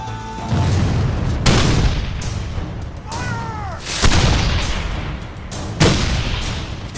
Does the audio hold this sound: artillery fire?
yes